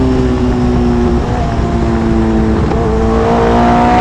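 A Hayabusa-powered race car engine drones loudly and continuously, its pitch climbing as it revs up the straight toward the end.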